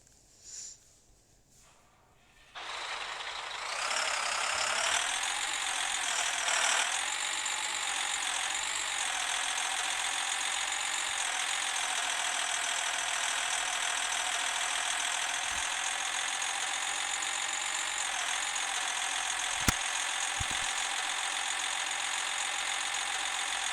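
A fast tractor engine starts up and runs steadily at a high, even whine and rumble for a long stretch, close by with no voices.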